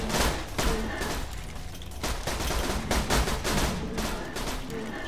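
Dense gunfire in the Borderlands 2 video game: loud, continuous bursts and rapid shots in overlapping volleys, with a few voices faintly underneath.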